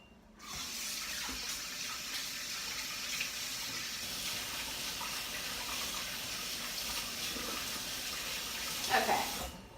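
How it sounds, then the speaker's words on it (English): Tap water runs steadily into a sink as hands are rinsed beneath it, a continuous close wash with a brief louder splash near the end. "Rinse my hands."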